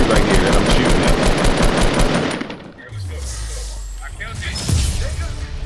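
Video game gunfire rattles in rapid, loud automatic bursts for about two seconds, then gives way to quieter rumbling and effects with a voice talking over them.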